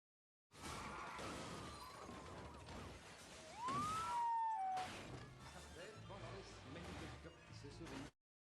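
Police car sirens wail during a chase in the French film Taxi 2, a rising siren sweep cutting through a loud, busy mix of crashes, engine noise and clatter.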